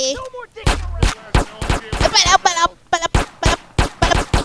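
Gunfire in the video game GTA San Andreas, a rapid string of sharp loud shots in quick succession, with someone talking excitedly over much of it.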